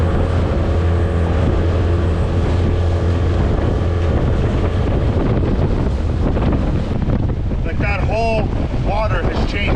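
Strong wind roars steadily into the microphone on a lake with gusts near 38 km/h, rushing water and choppy waves close by, buffeting throughout without pause.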